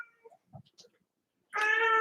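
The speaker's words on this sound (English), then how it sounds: "It will meow at you until you put it outside." A house cat meows to be let outside, a loud drawn-out harmonic cry near the end after some faint scattered sounds.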